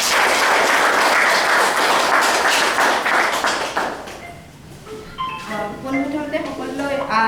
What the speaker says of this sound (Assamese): এটা জোৰে হাত চাপৰি দিয়ক তেখেতৰ কাৰণে